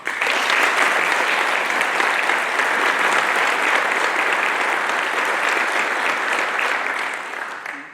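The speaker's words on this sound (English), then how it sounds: "I would ask for a round of applause for Dave's family for their support for him" A police change of command ceremony audience applauds a family in a steady, dense burst of clapping that holds for about eight seconds at full strength, then begins to fade at the end.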